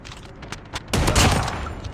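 Shotgun fire in a ranked Call of Duty match, a few sharp blasts followed by a loud, booming burst of gunfire that rings out and decays, close and dense with no voices.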